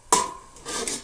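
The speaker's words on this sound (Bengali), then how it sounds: "এখন আমি ঢাকনাটা তুলে দিচ্ছি" A metal lid lifts off a cooking pot of spiced papaya paneer, giving one sharp clink followed by a brief scraping rub and a soft clatter, close and alone.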